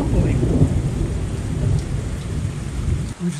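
Deep thunder rumbles on and on through a southern California thunderstorm, loud and low with rain hissing beneath it, fading briefly at the end before another rumble rises.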